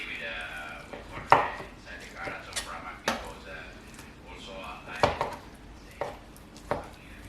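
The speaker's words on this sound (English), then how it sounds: "I've just cut up a little bit of the chicken" A knife chops cooked chicken on a board for homemade dog food, with sharp, irregular taps a second or so apart against a quiet kitchen background.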